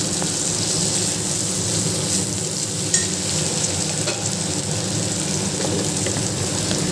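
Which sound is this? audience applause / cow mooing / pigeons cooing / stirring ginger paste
stirring ginger paste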